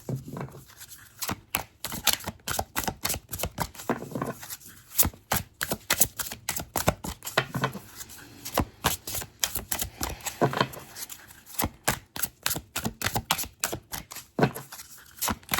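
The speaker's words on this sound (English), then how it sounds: "Okay, let's pull 2 cards here." Tarot and butterfly oracle cards being shuffled and pulled from a deck, dense rapid riffling flutters and slaps in irregular bursts, close by with no talking.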